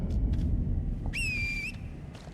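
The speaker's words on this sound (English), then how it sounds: "It's like I heard the horse whistle and I saw no horse." A horse-summoning whistle in Elden Ring: one sharp, bright, sustained tone lasting about half a second, with clear overtones, heard alone over a quiet low game ambience.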